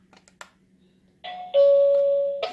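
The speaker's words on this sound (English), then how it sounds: "And then a doorbell." A doorbell chimes close by, a two-tone ding-dong with a sustained ringing tone after a few faint clicks.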